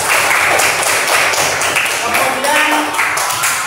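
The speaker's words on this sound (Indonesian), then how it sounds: "Kasih tepuk tangan Pak Arsi." A classroom group claps hands together, a dense, fairly loud burst of clapping that runs steadily for several seconds with voices mingled in the background.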